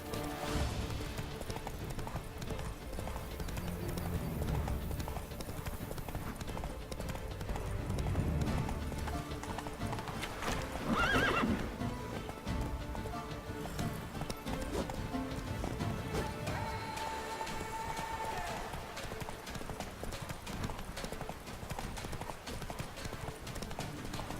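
Roach, a horse in The Witcher 3, galloping with steady rhythmic clip-clop hooves at moderate volume, along with a brief whinny and quiet game ambience.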